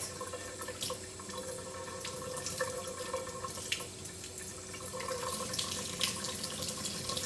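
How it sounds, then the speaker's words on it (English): Tap water runs steadily into a kitchen sink while raw ribeye steak is rinsed under it, a constant close hiss with small splashes and drips, no talking. "I always wash all meat."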